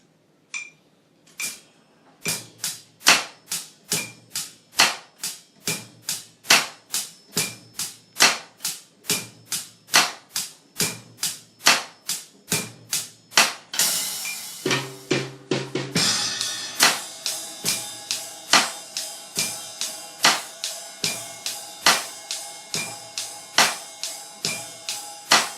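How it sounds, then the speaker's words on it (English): Ballad-style wedding drum groove played on a kit. Steady crisp strokes with a backbeat lead into a washier, sustained ride cymbal pattern with ringing overtones, heard up close and without talk throughout. "So I'm going to transition right into the ride cymbal."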